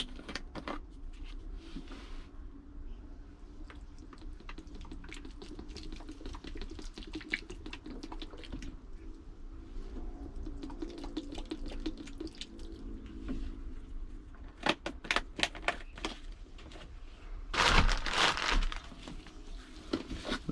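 Fish chum mixed with oil being mashed by hand for shark bait, giving soft, wet squelching and crushing noises throughout, with a louder burst of mashing near the end and no talk.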